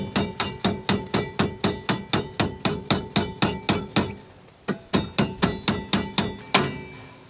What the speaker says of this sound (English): So maybe my little hammer will work.